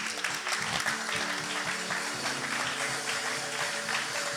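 Church congregation applauding and cheering the Lord during a French-language worship service, a steady wash of clapping filling the room under a sustained musical drone, with some voices mixed in.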